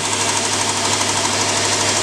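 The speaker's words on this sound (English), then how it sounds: "Start engine. Engine's up and running." An engine runs at a steady, loud, dense rumble with a fast knocking pulse throughout, close by and without any voices.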